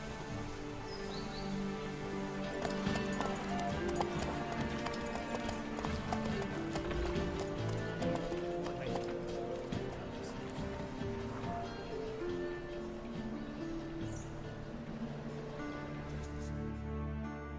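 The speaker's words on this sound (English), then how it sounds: "Vámonos para la carrera de caballo." Horse hooves in a horse race in The Witcher 3, a fast steady clip-clop rhythm running the whole time, with a faint whinny and light rain-like patter and some speech in the background.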